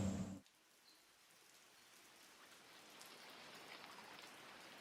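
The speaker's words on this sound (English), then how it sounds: "It's raining quite a bit, maybe snowing a little bit here and there." Steady rain falling outdoors at Monticello in January, under overcast skies with a little snow mixed in: a soft, even hiss of drops that continues throughout after a brief louder rumble at the start.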